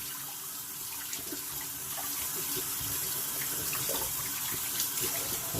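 Tap water runs steadily into a sink while a shaving brush and shaving equipment are rinsed, a continuous close splashing rush with small irregular spatters and no talking.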